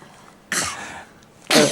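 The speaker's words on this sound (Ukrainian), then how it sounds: "Надо вычихаться" Two short, sharp human sneezes about a second apart, the second louder than the first, close to the microphone and with no talking.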